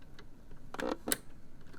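Two quick plastic-and-metal clicks as a zipper foot snaps into place on a sewing machine, close and fairly crisp in a quiet room.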